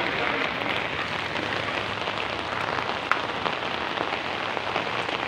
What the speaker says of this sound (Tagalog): kusog na kayong ulan